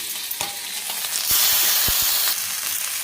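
Jowar rava kichidi with curry leaves being stirred in a hot pan, giving a steady sizzling hiss with soft scraping strokes and a few dull knocks, swelling louder midway through.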